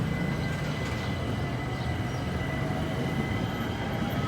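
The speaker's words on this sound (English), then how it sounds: "Oh, here comes the train. Oh, two trains at a railroad crossing." Two trains pass a railroad crossing in Mexico, a steady loud rumble of rolling wheels and rail noise with a faint high ringing tone running throughout.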